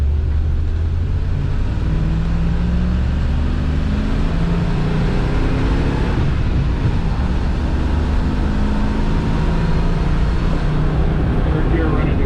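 A 1992 Land Rover Defender 110 station wagon with a carbureted V8 pulls hard in second gear after a downshift, its engine note droning and climbing steadily, loud and close from inside the cabin with no talk.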